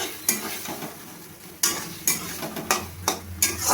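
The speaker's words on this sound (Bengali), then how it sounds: "এবার আমি ভালোভাবে নাড়িয়ে নেব" Dry chilli chicken with cornflour slurry is stirred in a pan, a run of spaced spatula scrapes and clanks against the metal over a low sizzle, close and clear.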